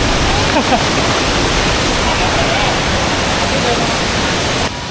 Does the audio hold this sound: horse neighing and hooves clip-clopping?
no